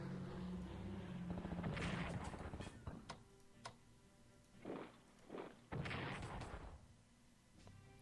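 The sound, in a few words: bombing of troops in Strategic Command WWII video game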